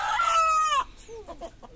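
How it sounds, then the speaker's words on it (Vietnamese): Chickens being let into a newly built coop on a rural Vietnamese farm: one loud, drawn-out squawk up close, followed by a few short, softer clucks. "Rồi bây giờ mình thả gà vô."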